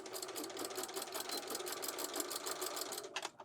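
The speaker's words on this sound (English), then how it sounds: "Do a little back stitch right there." A sewing machine back stitches and then runs steadily along the side seam of a skirt, with a fast, even mechanical rhythm that holds close and clear before slowing near the end.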